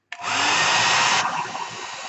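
Heat tool blowing hot air to dry a begonia line drawing, switching on abruptly and running as a steady loud whooshing hiss, close up, with no talking.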